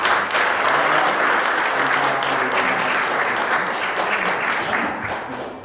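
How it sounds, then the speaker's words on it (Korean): Warm applause from a church meeting audience of presbytery leaders welcoming officers, dense steady clapping that holds strong and then gradually tapers off toward the end. "노회장님들께서 한번 박수로 반갑게 맞으시기 바랍니다"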